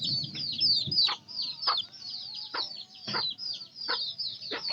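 A chicken with her chicks makes repeated high chirping calls in a regular series of short bursts, fairly close, with a low clucking underneath early on and no talking.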